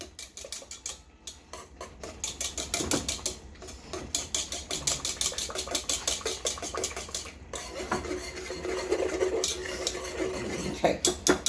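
A whisk beats rapidly against a pot of macaroni and cheese sauce, producing quick rhythmic metallic scraping and tapping strokes up close, with a few brief pauses and no talking.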